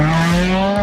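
A loud car engine roars in a steady, high-pitched drone, held at constant revs for under a second, close up.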